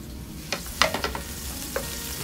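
Onion hitting a little hot cooking oil for ginisang mustasa: a steady low sizzle with a few sharp clattering stirs and scrapes of a utensil in the pan, close and clear, without speech.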